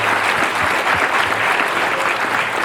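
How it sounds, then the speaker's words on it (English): Audience at a community debate in Asheville applauds steadily, a dense, even clapping from a mid-sized crowd that fills the room throughout. "A round of applause for all of them"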